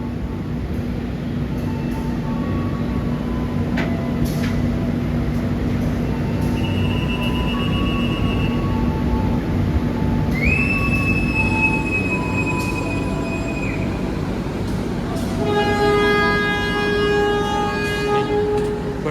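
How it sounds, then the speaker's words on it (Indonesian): A KA Logawa train pulling out of a station, steady rolling rumble with wheel squeals rising over the noise, tonal screeches and a horn-like whine, heard from on board at a moderate, constant level. "Logawa langsung berangkat lagi kayaknya"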